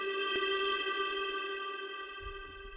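A steady, sustained musical sample tone with a washy reverb and delay tail, a faint click early on and low rumbling notes entering near the end.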